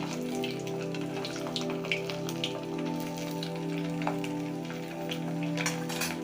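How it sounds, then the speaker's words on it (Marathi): Marinated chicken 65 pieces frying in very hot oil, a steady close crackling sizzle with scattered pops throughout, no talking. "आता आपण एक पहिला सोडून बघूया बघा आपलं तेल छान कडक गरम झालंय"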